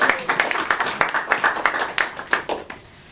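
A small group claps for award recipient Jonathan Alfaro at a high school student spotlight ceremony, about a dozen distinct, close hand claps in a loose, uneven rhythm.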